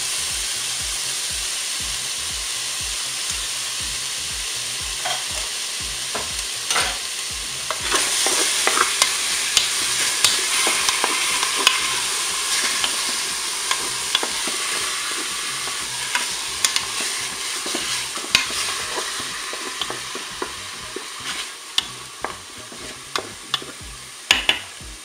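Onions cooking in a Cookeo multicooker: a long run of rhythmic spatula taps and scrapes over a soft sizzle that grows louder partway through, with clicks of utensil on the pot and no talk.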